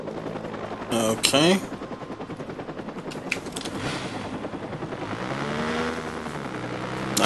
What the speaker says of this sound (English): Now what about these helicopters?